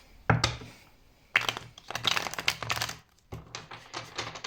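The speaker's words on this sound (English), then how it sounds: "I'm going to be live shuffling, as you can see now." Tarot cards are shuffled by hand at close range: a series of quick, papery riffling and tapping bursts with brief pauses between them, fairly soft and with no voices.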